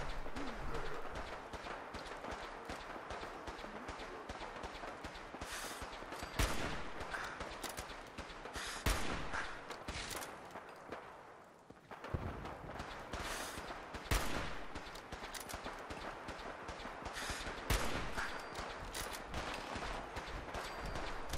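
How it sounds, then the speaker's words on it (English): Dense gunfire from a firefight in the video game Fallout 4, including sustained minigun bursts and scattered rifle shots, crackling almost continuously and loudly with only a brief lull midway. "I hear a lot of gunfire."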